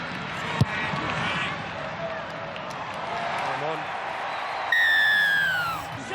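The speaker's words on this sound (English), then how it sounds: "The crowd just all go up, the noise." South Sydney fans at an NRL rugby league match make a broad, steady crowd roar that swells into louder cheering, with a whistle-like tone and commentary over the top.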